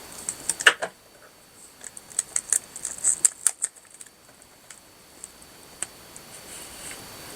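Paper is cut with scissors for an Alice in Wonderland 8x8 Dutch door craft spread: scattered sharp, dry snips come close and soft, bunching into quick runs with short pauses between, and no voices.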